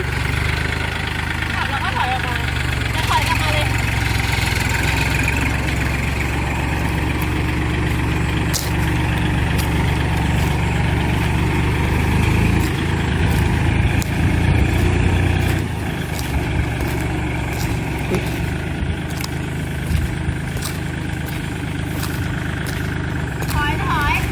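Farm tractor driving along a rural road toward an orchard, its engine running with a steady low rumble and vibration throughout, while someone talks over it.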